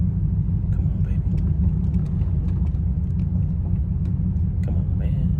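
An LS-swapped Chevrolet Monte Carlo cruising, its engine a steady, deep low rumble that carries on without a break from start to finish, with some faint clicks and cabin noises above it.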